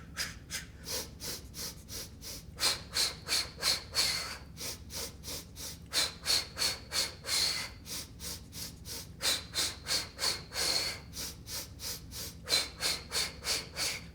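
Someone exercising during a seniors' fitness class breathes in and out forcefully in rapid rhythmic bursts, close to the mic, with short pulsed breaths grouped in sets and no talking.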